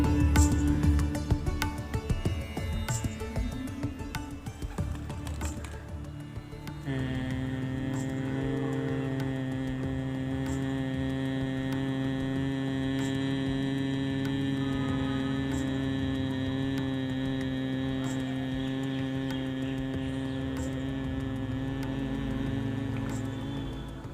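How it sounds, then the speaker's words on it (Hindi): A steady, low nasal hum like a sustained 'mmm', voiced on the exhale in bhramari pranayama breathing, holds evenly for around seventeen seconds after a brief stretch of softer sounds, close and calm with no talking. "छोड़ते समय मग की ध्वनि का उच्चारण करना है।"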